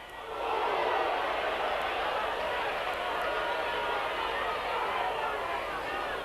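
A rugby league crowd in a stadium lets out a broad, sustained murmur of reaction after a tackle, a dense wash of voices that holds steady for several seconds with no commentary over it.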